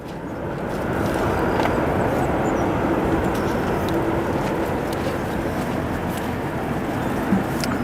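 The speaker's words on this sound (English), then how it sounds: "Couple aircraft coming in." Aircraft arriving at Chicago O'Hare International Airport, a broad, steady jet roar that swells early and holds at a distant, even level, with faint clicks and no voices.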